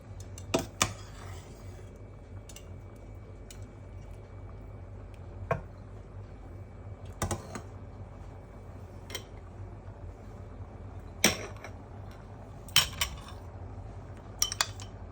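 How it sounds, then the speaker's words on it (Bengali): Biryani rice is stirred gently in a pot, leaving a quiet background with sparse, sharp metallic clinks and taps of a spoon against the pot spaced several seconds apart; no talking. "আমি এখন ধীরে ধীরে একটু নেড়ে চেড়ে দিব, যেন উপরের চালগুলা নিচের চালগুলা অর্ধেক অর্ধেক না হয়।"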